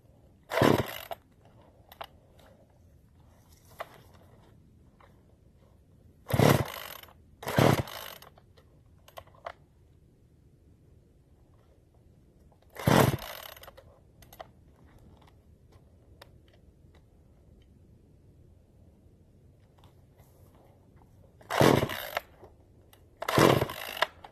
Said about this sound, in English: This chainsaw doesn't have a primer like the TimberPro does, so let's see how long this one takes to start.